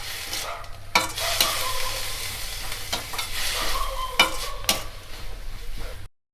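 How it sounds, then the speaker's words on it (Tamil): Chopped bottle gourd sautéing in a hot pan for rice roti, with a steady close sizzle broken by several sharp scrapes and clinks of a spatula stirring. "இது கொஞ்சம் நேரம் வதங்கினா போதும்."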